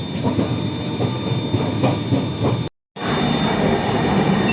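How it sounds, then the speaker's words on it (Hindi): The Sealdah Rajdhani express (12314) runs at speed, a steady loud rolling rumble and rail clatter heard from inside the coach, with a brief near-silent dropout in the middle before the noise resumes. "चलिए ट्रेन हमारी स्पीड पकड़ चुकी है"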